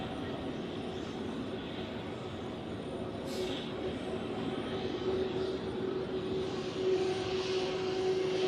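Airliner taxiing at Zurich airport in freezing weather, a steady distant engine drone with a faint whine that holds level throughout, heard from an outdoor spotting position.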